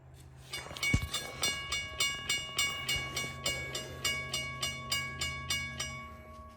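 A model railroad crossing signal switched on by a WiFi switch sounds close and steady, with a sharp clack at the start followed by regular rhythmic bell dings and pulsing clicks.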